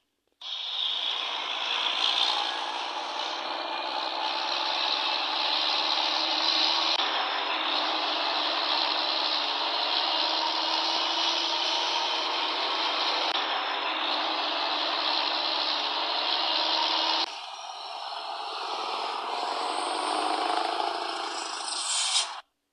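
Truck engine idling in the Cargo Simulator 2021 driving game: a steady, loud broadband exhaust drone holding level for over twenty seconds, with a slight change in tone near the end.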